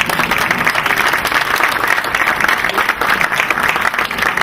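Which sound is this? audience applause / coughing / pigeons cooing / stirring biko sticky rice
audience applause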